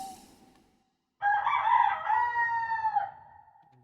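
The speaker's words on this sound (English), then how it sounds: "There's the cock crowing." A rooster crows at dawn in the video game The Witcher 2, one long, clear cock-a-doodle-doo that rises and holds for about two seconds, heard alone after a quiet pause.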